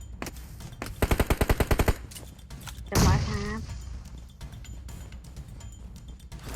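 Automatic gunfire in PUBG Mobile: a loud rapid burst of about ten evenly spaced shots, followed by a sharper single blast with ringing tail, with a chatty voice and game ambience around it.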